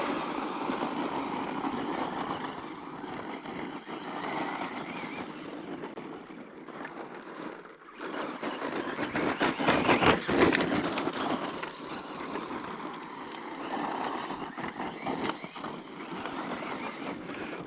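A Traxxas Slash 2WD RC car with a low-centre-of-gravity chassis races laps on a track, giving a continuous buzzing whir that swells and fades as it passes, with no talking.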